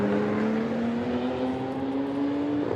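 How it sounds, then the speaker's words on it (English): A Ginetta race car accelerating at Donington Park toward the Melbourne hairpin, its engine note climbing steadily in pitch as it pulls away, heard at moderate distance without commentary over it. "Accelerating now down to the Melbourne hairpin"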